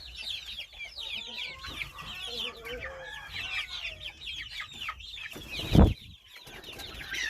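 Brahma and Americano chickens cluck and chatter busily in a coop, overlapping calls near and far, with a burst of flapping wings near the end.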